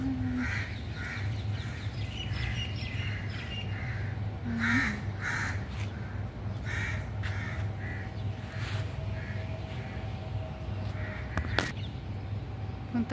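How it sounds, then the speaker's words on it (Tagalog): Crows caw again and again around a garden of lemon and mango trees, their repeated harsh calls coming at irregular intervals over a steady low hum and faint ambient noise. "Ang ingay ng uwak."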